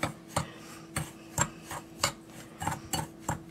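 About six cloves of finely minced garlic are stirred into dry breadcrumbs in a bowl, giving a run of soft, close scraping and rubbing strokes in an irregular rhythm, quiet and with no voices.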